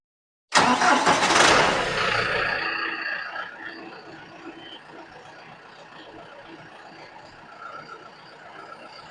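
A tractor engine cranks and catches with a loud burst, then settles into a steady rumbling idle close by. No talking is heard.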